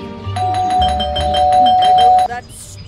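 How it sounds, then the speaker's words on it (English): An in-game bell from Scary Teacher 3D rings out as a loud run of rapid repeated chimes for about two seconds, cutting off sharply over a low background drone. "that stupid bell again."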